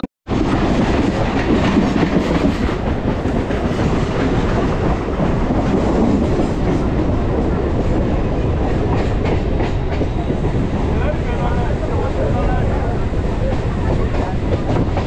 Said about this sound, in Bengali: ট্রেন এখন বালিগঞ্জ ঢুকছে।